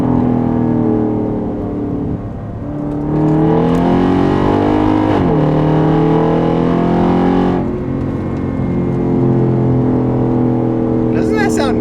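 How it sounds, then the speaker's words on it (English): A Mercedes E550 engine revs loudly through a couple of manual-mode downshifts, its pitch climbing sharply with each blip and then settling into a steady drone. A voice talks briefly near the end. "We'll go into manual mode, click down a couple gears. Oh, man. Downshifts just sound so much better."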